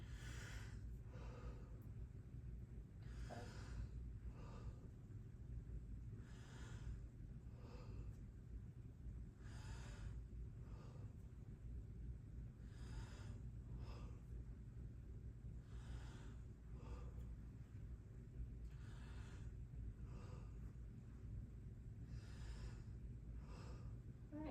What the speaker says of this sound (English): take a deep breath for me